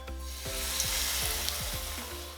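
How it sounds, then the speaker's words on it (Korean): Burdock root pancake batter spooned into a pan of cooking oil with a spoon of sesame oil over medium-low heat, sizzling steadily up close with a few soft pops and clinks. "팬을 올리고 식용유 충분히 두르고 참기름 한 스푼 넣고 중약불로 달궈지면 반죽을 떠서 넣고"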